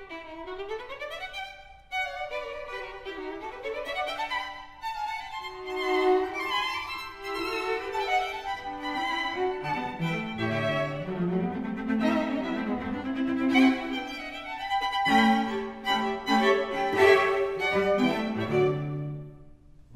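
Orchestral first theme of a Beethoven sonata-form movement, a lively dance-like melody over accompanying chords, played continuously and fairly loud with no talking.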